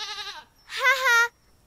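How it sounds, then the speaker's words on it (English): Two goat bleats in a row, the first wavering and the second louder and longer, each a nasal, quavering cry with a short pause between. "So Kim likes goats."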